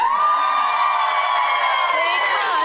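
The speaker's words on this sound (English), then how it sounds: "There's been a lot of screaming in the studio." A television studio audience screams and cheers in a loud, steady wall of high-pitched voices that carries on for the whole stretch without a break.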